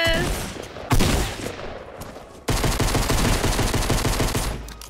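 Gunfire in the video game Fortnite, including shotgun blasts: loud, close shots with a sharp burst near the start and a dense run of rapid fire in the second half.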